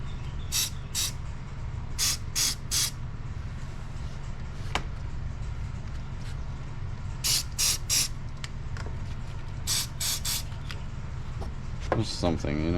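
Electrical contact cleaner sprays onto connectors on a 2003 Chevy Cavalier, in short hissing bursts grouped in pairs and triples and separated by pauses, over a steady low running hum.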